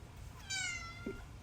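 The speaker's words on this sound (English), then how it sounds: "My cat." A pet cat gives a single drawn-out meow, fairly faint and close, in a quiet indoor room.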